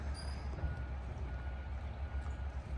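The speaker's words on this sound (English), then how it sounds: "I've got the garbage truck driving by." A garbage truck driving past a residential yard, its low engine rumble steady throughout with a faint, high reversing beep audible early on, somewhat distant and heard alone.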